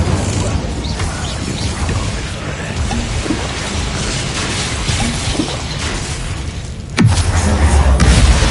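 An Incendio fire spell cast in Hogwarts Legacy: game ambience rumbles along, then a sudden sharp burst lands near the end, followed by a deep roaring rumble.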